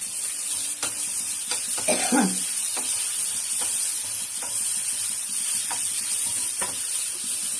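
Grated coconut sautés in a pan for a mutton head curry, a steady frying sizzle with periodic spoon taps and scrapes, plus a brief cough near the start.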